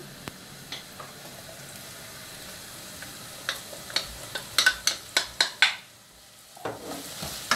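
Onions and bell peppers fry in a pan with a soft, low sizzle, overlaid by a quick series of sharp spatula scrapes and clicks against the pan toward the middle; no talk.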